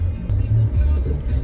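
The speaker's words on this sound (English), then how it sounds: "As you can see, I am driving my car" Car driving with a steady low engine and road rumble throughout, close and continuous, with no talk over it.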